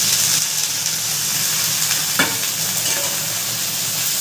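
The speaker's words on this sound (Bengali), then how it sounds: "এবার আমি সবজিগুলো ভালো করে ভেজে নেব" Vegetables fry in an oiled wok for chowmein, giving off a loud, continuous hissing sizzle with stirring scrapes throughout and one sharper clack of the utensil midway.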